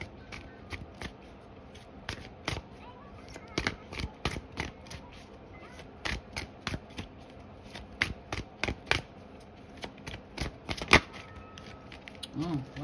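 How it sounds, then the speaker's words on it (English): Oversized tarot cards being shuffled by hand, a quick run of sharp papery riffles and flicks that repeat at an uneven pace throughout, close and fairly quiet, with no talking. "I always had a hard time shuffling these freaking cards because they're so big."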